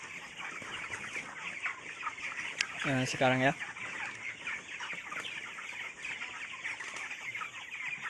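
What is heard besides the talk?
chickens clucking on a farm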